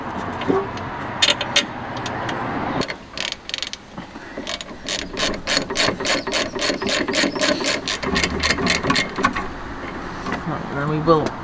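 Ratchet tightening brake caliper bolts on a Lexus NX300h rear brake, a close series of quick rhythmic clicking bursts with metallic clanks between them, under occasional speech.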